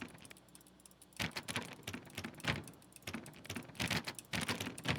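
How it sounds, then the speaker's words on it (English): Rapid clicking while playing The Stanley Parable, bursts of dense, close, crisp taps from both hands that come in quick clusters with brief pauses between them, and no speech. "I don't know if you can hear me clicking."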